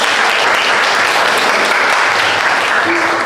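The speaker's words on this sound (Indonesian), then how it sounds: "tepuk tangan semuanya" Loud, dense applause from an audience at a teacher-training event fills the room without a break.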